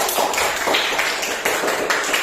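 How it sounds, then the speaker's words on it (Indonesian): A classroom of pupils clapping their hands together, a dense, loud patter of many overlapping claps with slight rhythmic surges, close and continuous. "Tepuk tangan lagi sekali."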